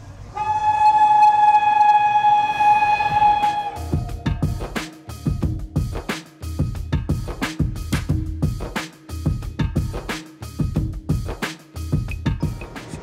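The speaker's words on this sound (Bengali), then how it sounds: "ট্রেন এসেছে প্রান্তিকে" The Kulik Express arrives at Prantik station, opening with a long, loud blaring horn blast, then close, rhythmic clickety-clack of wheels over rail joints repeating steadily as the coaches roll past.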